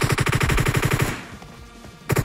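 Rapid automatic gunfire from the mobile game PUBG Mobile, a fast, even stream of loud shots that stops, leaves a short ringing lull, and resumes with a brief final burst.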